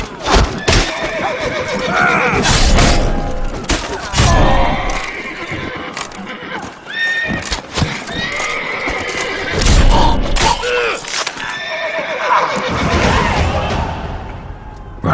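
Horses neigh and whinny repeatedly over a busy, loud game soundscape in The Witcher 3: Blood and Wine, with hoofbeats clopping and thuds mixed in throughout.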